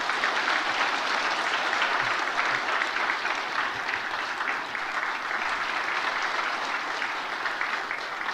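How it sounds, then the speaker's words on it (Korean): A church congregation gives steady, sustained applause, a dense even roar of many hands clapping that continues throughout without a break. "박수로 격려해 주시기 바랍니다."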